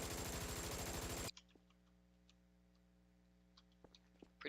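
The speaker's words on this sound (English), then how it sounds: "Left click fires a machine gun." Machine gun of a Polikarpov I-5 biplane in Garry's Mod, a loud rapid burst of evenly spaced shots that stops abruptly, followed by near silence with faint scattered ticks.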